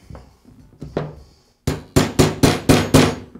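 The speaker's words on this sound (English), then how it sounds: "I'll insert my punch onto the roll pin and tap it into place." A hammer taps a punch against a roll pin while fitting the feeder of a Senco nail gun: a few soft early taps, then five sharp, close, evenly spaced metallic strikes with no talking.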